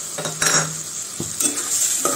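Potatoes and onions sizzle in a pan with turmeric, salt, cumin, coriander, chili powder and ginger-garlic paste, stirred with a few scraping strokes over a steady hiss, close and fairly loud.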